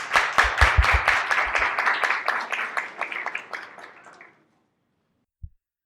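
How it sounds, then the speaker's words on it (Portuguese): A small group at a Catholic religious training class claps for a visiting teacher, with distinct individual claps that fade out over about four seconds, then one faint thump after a pause. "Rodrigo, uma salva de palmas para ele, por favor,"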